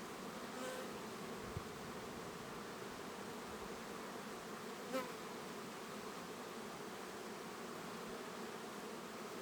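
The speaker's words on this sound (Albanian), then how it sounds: "Bletët nuk janë agresive." Honeybees humming from an opened hive during frame work, a steady, soft, close drone that continues evenly throughout, with one brief click partway through.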